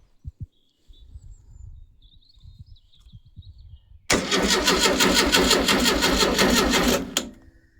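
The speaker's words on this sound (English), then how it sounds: "So let's crank it over and let's see if we have a spark." A VW Type 2 engine without a carburetor cranks over for about three seconds with a loud, rhythmic churning starter sound that stops abruptly without the engine catching, after some quiet thumps and handling noises.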